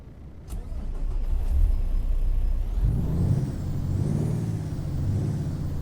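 A Cummins ISX 15 diesel truck engine in American Truck Simulator starts with a brief click and air hiss, then settles into a steady, loud low rumbling idle that thickens midway, with no talk.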